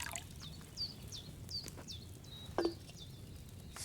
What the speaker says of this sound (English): You have to pour the right base into the cauldron.